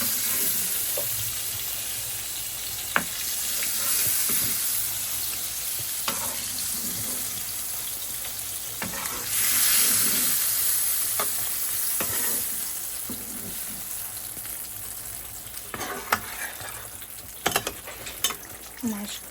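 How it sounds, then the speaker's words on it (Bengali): Pieces of fish are added to a hot pan of spiced curry base and fry with a continuous loud sizzle, while a utensil stirs and scrapes nearby throughout. "এখন আমি মাছগুলো দিয়ে দিচ্ছি।"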